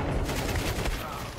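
Video game gunfire in a competitive shooter match, a dense burst of shots filling the clip with loud, continuous crackling.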